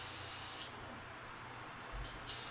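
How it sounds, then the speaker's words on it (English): Two short hissing bursts of aerosol spray onto hair clippers, close and sharp, separated by a quieter pause of low background noise. "Spray your clipper up."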